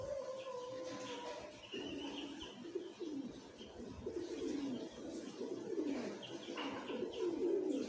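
Pet pigeons cooing near a cage, soft repeated throaty coos and a few chirps spread across several seconds, fairly quiet with faint background noise.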